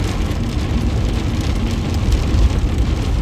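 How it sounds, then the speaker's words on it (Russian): Heavy rain pounds steadily on a 2021 Toyota Yaris Cross, a dense, continuous low roar of drumming drops with no voices. "Жесткий дождь."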